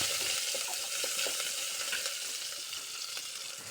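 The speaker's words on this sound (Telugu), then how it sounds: "ఆయిల్ వేసుకున్న తర్వాత ఒక దాల్చిన చెక్క, 2 లవంగాలు, 1 బిర్యానీ ఆకు, 1 ఆనియన్ కట్ చేసి ఫ్రై చేసుకుందాం." Sliced onion with a cinnamon stick, two cloves and a bay leaf frying in oil inside a pressure cooker gives a steady, broad sizzle that eases slightly toward the end, close and moderately loud with no speech.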